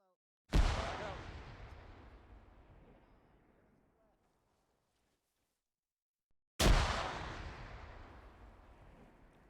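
Two separate frag grenade explosions in Arma Reforger, each a sudden heavy blast with a long rumbling decay, the second arriving about six seconds after the first.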